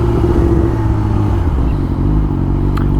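A 2019 Yamaha R6 with upgraded cams, ridden along and shifting through its gears, gives a loud, close, continuous engine drone mixed with wind rush, with no talk over it.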